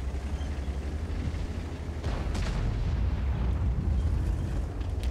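Artillery shell explosions in the video game World of Tanks, heard as a dense, rumbling barrage of low booms and bursts that grows louder midway and stays heavy throughout, with no talking.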